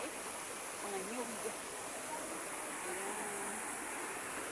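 A river in Sorsogon, Bicol rushes steadily with a dense, even wash of flowing water, close and constant, while faint voices talk underneath.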